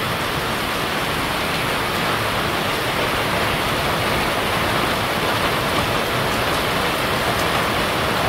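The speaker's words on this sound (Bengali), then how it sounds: "খুব সুন্দর বৃষ্টি হয়েছে।" Heavy rain pouring down in a Bangladeshi village, a dense, unbroken roar of water on surfaces that stays loud and close throughout, with no voices.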